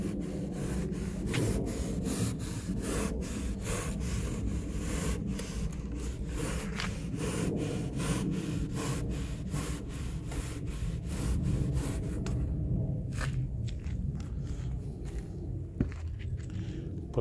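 Hand saw cutting through a basalt mineral wool slab, a steady rhythmic rasping of repeated strokes that carries on close by throughout, with the pace thinning out near the end.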